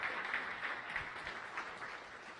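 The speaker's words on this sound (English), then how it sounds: "give her a warm round of applause" Steady applause from an audience at a Science Cafe talk on gravitational waves, a dense, even wash of clapping, moderately distant and quiet, welcoming a speaker to the stage.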